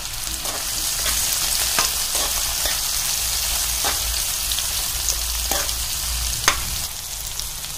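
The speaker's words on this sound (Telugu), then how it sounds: "ఈ ముక్కలు గోల్డెన్ బ్రౌన్ కలర్ వచ్చేంత వరకు మనం వేయించుకోవాలి" Pieces of bitter gourd fry in hot oil in a pan, a loud continuous sizzle with occasional sharp crackles and stirring scrapes, heard alone without talk.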